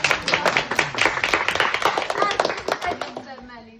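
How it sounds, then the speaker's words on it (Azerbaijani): Children and an audience clap at a village school New Year event in Azerbaijan, brisk uneven applause running throughout with voices mixed in underneath. "Alqışlayaq"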